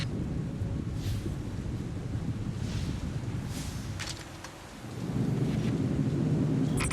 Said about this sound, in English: The storm must be centered around this building.